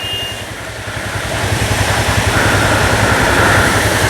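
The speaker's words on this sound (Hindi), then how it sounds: "ये आ गए बाइक्स।" Motorcycles arrive on a mountain road in Kinnaur on the way to Spiti, their engines a steady droning rumble that grows gradually louder and closer over a few seconds, with no talking.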